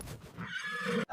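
A horse neighs in one brief, wavering whinny, faint and close, ending with a short thump.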